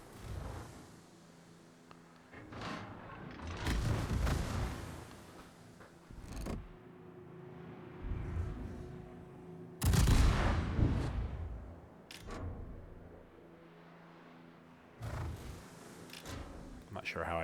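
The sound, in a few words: ship turret gunfire in a naval video game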